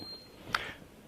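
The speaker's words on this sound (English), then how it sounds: "that alarm right now is telling me that obviously the door is open" A short electronic beep from a Liebherr WTes 5872 Vinidor wine cabinet's open-door alarm, a single brief bright tone over quiet room noise.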